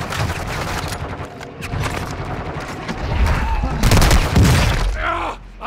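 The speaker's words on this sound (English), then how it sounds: "The roof is shooting now, chat." Gunfire in Call of Duty, with enemies shooting from a rooftop: dense bursts of automatic fire build and grow louder toward a heavy barrage, mixed with the rumble of nearby impacts.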